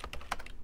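A computer keyboard is typed on in a quick burst of five or six close, crisp keystrokes.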